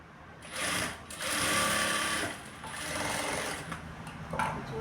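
A sewing machine stitches a lined blouse in several close, moderately quiet runs, its needle chattering in bursts separated by brief pauses.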